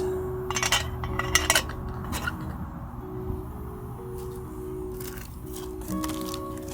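A metal pot clinks down onto a small cat food can backpacking stove: a few light, sharp metallic taps and chinks close by, over a steady low hum of the burning stove.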